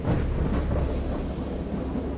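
Thunderstorm with rain in the horror video game Dagon: a deep, rolling rumble of thunder over a dense, steady hiss of rainfall, loud and continuous for a couple of seconds.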